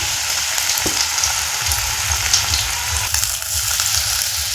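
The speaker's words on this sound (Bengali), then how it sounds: "এখন আমি এই গরম তেলে দিয়ে দেব" Bager leaf chops dropped into hot oil fry with a steady, dense sizzle and crackle that runs unbroken and close throughout, with no voices.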